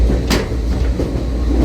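Heritage passenger coaches, including a former Southern Railway car, rolling steadily along rails with a continuous low rumble and faint wheel clatter, close and moderately loud, without talk.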